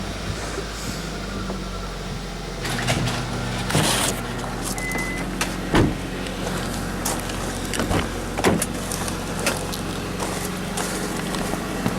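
A 2009 Toyota Camry's electric windows whir inside the car on a frosty morning, a steady motor drone mixed with scattered clicks and thumps from the cabin.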